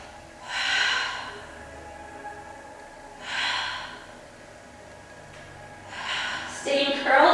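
Deep breaths during a Pilates exercise: three strong, breathy exhales spaced a few seconds apart, close and fairly loud, the last one ending in a sharper rush of air.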